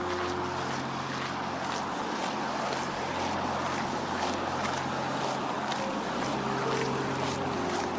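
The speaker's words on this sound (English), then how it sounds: "It's the road noise." Steady broadband road traffic rumble along a hiking path, constant and moderately loud with a continuous low hum and no distinct individual vehicles standing out.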